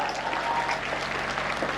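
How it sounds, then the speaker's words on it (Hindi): Audience clapping at a Hindi comedy poetry show, a brief even burst of many hands applauding together over a low hum. "एक बार ताली वाली मिलके बजाओ यार जरा"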